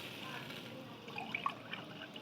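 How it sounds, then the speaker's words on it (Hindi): Water pours and trickles faintly into a cooking pot holding oil, cardamom and almonds for zarda rice, a soft, irregular splashing low in level. "और 3 कप पानी हम ले"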